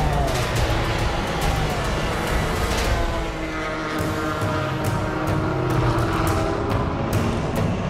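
A Peugeot race car, the number 8 prototype, at a 24-hour endurance race, its engine a loud continuous roar close by with a slight dip midway, then building again, with no talking.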